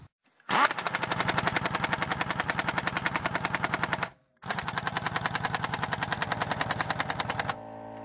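An AirCat NitroCat 1200-K 1/2-inch air impact wrench hammers a lug nut tight with a torque stick fitted: two loud, rapid rattling bursts of about three seconds each, split by a brief pause, with no voices.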